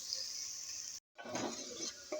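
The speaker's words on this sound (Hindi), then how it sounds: "ऑयल मैंने लिया था आधा कप और उसमें मैंने प्याज डाल दिया है। प्याज को हम फ्राई करेंगे।" Chopped onion frying in half a cup of oil sizzles steadily in a pan, with a brief silent break partway through and soft stirring clatter afterward.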